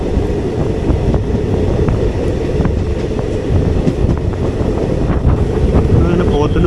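The Sabari Express rolling into Pothanur station, a loud continuous rumble of wheels and carriages with faint rhythmic clatter and wind buffeting, heard from on board.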